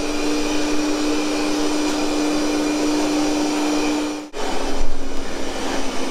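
A Proscenic M9 robot vacuum cleaner runs alone with a steady, loud whir and a constant tone, then briefly cuts out before returning at boosted suction power on carpet, slightly louder.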